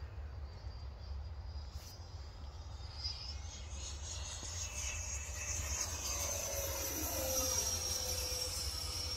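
A homemade RC F-35 VTOL model with a heavier 100mm electric ducted fan motor whines overhead, its high-pitched fan tone rising and sweeping as it flies, fairly faint over a steady low outdoor rumble.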